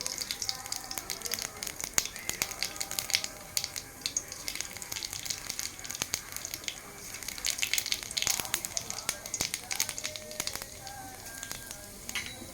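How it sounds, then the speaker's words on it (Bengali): Whole dried red chillies and nigella seeds go into hot white oil, producing a close, steady crackling sizzle with dense pops and spits that continues throughout. "এতে আমি সাদা তেল দিয়ে দেবো দিয়ে দেব গোটা শুকনো লঙ্কা আর কালো জিরে"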